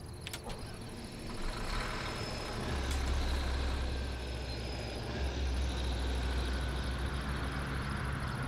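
An electric bus in Bus Simulator 18 gives off a continuous low hum and rumble that swells partway through, with faint high tones and clicks over it, moderately quiet and steady, and no clear speech.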